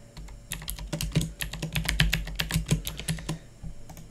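Typing on a computer keyboard while entering company details for a Facebook lead ad form, a steady run of close, crisp key clicks with a few heavier thumps, alone with no talk.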